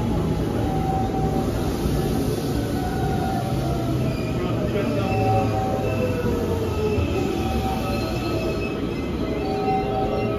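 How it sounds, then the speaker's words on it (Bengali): A local commuter train in Kobe, Japan, rumbling steadily along the rails from inside a carriage, with wheel squeal and faint background chatter throughout. "যে ট্রেনে করে আমরা এখন সমাবেশ যাব।"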